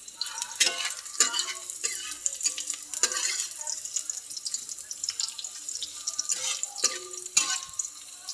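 Ground meat stirred in a frying pan for a vegetable dish, with steady sizzling under repeated scraping and stirring strokes of a utensil against the pan, close and moderately loud throughout.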